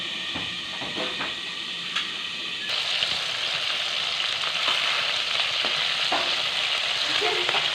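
Ritha fish frying in a pan with a steady, loud sizzle that grows fuller partway through, along with faint crackles and occasional spatters.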